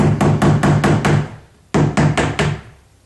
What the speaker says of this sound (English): So grab yourself a screw and a hammer.